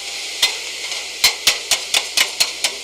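Sirloin steak chopped South Philly style on a deli grill: a run of sharp metallic spatula strikes, sparse at first then a steady rhythm of about eight chops, loud and close over a continuous sizzle.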